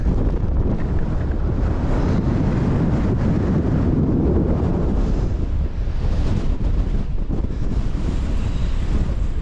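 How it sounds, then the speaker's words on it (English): Strong wind buffets the microphone in continuous roaring gusts on a hill in the Scottish Borders, rumbling loudly throughout with no voices. "Yeah, it's a bit windy here."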